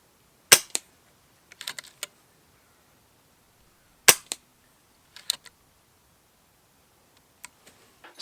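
An FX DRS Classic 600 FAC air rifle firing .22 pellets, heard as a handful of sharp, fairly close cracks spaced seconds apart, each followed by quick mechanical clicks as the action cycles the next pellet.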